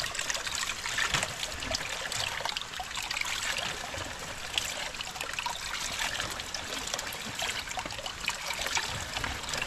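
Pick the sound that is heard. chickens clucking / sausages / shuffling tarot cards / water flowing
water flowing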